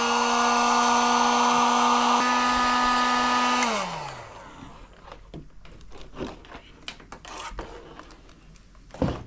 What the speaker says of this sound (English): we'll pull these heat shrink up over the top of them and heat shrink them down